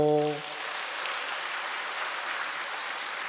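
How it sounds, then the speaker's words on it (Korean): A church congregation applauding after an infant baptism during a Sunday service, steady broadband clapping that rises right after a brief tonal note and holds evenly throughout. "박수 한번 쳐주세요."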